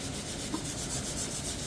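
Steady, close rubbing rasp of sandpaper working across thick white oak shelf boards, a continuous dry scratching with no pauses.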